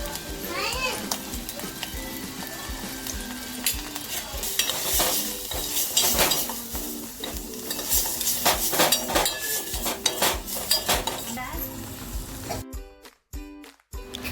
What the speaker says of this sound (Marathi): आपण आता त्याच्यात तिकडे मिक्स करूया